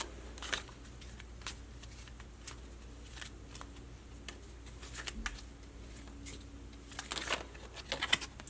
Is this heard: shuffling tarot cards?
yes